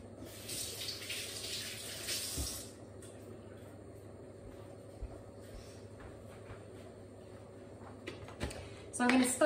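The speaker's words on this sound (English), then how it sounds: "I'm just going to wash my hands quickly." A kitchen tap runs as hands are washed, a splashing rush of water for a couple of seconds before it shuts off, followed by quieter clinks and handling sounds nearby.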